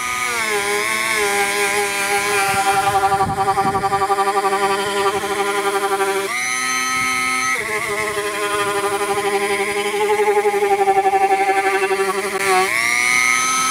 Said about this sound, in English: I'm going to use my Dremel with a little buffing wheel on it.